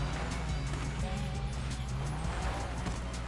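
A low-riding car driving fast and recklessly over a dirt road in a video game, engine droning steadily and loudly throughout with gravelly tire noise and brief skids.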